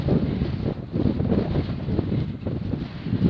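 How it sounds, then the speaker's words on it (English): Strong wind buffets a phone microphone on an exposed moorland hilltop near Black Hill trig point, a continuous loud low roar with gusty surges throughout and no voices. "My God, it's windy. Thank God for my bit of sponge on the side of my phone. You can probably hear the wind"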